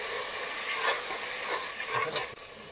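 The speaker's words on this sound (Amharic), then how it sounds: "አሁን ደግሞ አራት ፍሬ ቲማቲም ያው አጥቤ ከከተፍ በኋላ ልጨምር ነው" Washed, chopped tomatoes hit a frying pot while cooking maize kurkufa, giving a steady close sizzle with stirring scrapes and a couple of louder bursts; no one speaks.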